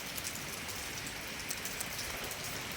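Steady rain pours down in a continuous, even hiss over a rural Thai home, dense and close with no pauses or voices.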